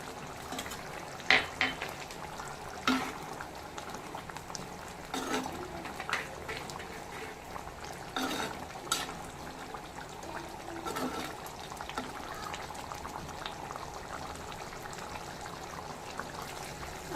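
Soft bubbling and simmering of thick chicken gravy in a pot, a steady low gurgle with occasional small pops, no voices.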